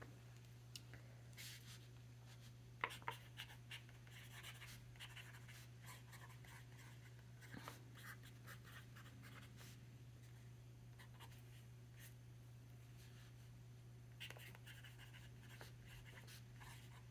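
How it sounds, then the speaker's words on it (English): A pen scratches across notebook paper in a quiet room, soft irregular strokes and occasional taps over a steady low electrical hum, faint and close, with no talk. "Do you like the sound of writing?"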